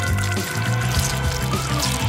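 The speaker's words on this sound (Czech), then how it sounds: "Teď ji rozpustím horké vodě." Hot water running and splashing into a kitchen bowl for melting yellow chocolate candy coating for cake pops, a steady close pouring with bubbling liquid throughout and no talking.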